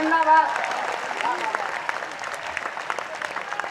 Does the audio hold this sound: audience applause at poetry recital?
yes